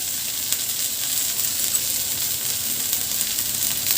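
Corn filling sizzles steadily in a pan on the stove, a continuous even frying hiss with faint crackle throughout and no voices.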